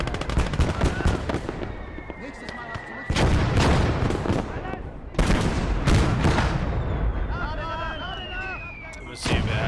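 Rifle gunfire in the Gates of Hell war game rings out as several sharp, loud shots at irregular intervals over a dense battlefield din, with whistling projectiles and other gunfire around it.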